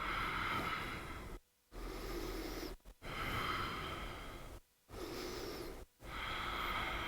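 Slow, audible breaths in a gentle yoga session, with several long soft inhales and exhales separated by brief pauses, close and quiet with no talking.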